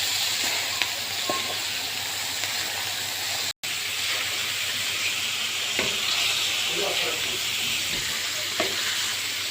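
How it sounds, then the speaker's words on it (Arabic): Alexandrian-style liver sizzles on a very hot grill pan in a home kitchen, a steady, loud, close frying hiss that runs unbroken throughout with faint crackles and no talk. "شايفين ما شاء الله عشان انا سخنت الجريل بتاعي مش منزله ميه ازاي"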